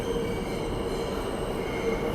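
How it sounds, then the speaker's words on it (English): A New York City subway train arriving at a station: a steady, loud rumble of wheels and rail noise with high squealing tones running throughout, no voices. "Now we wait for the train."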